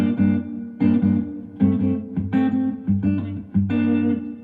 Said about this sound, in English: At the end of my board is my Strymon Flint, which has my reverb.